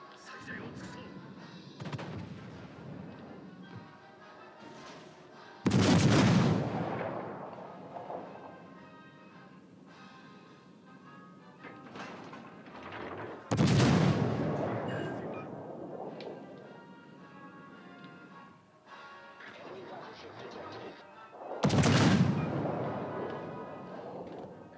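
Battleship guns fire in World of Warships: Legends, three heavy booming salvos spaced several seconds apart, each followed by a long rumbling decay, over a constant low background with someone talking between the shots.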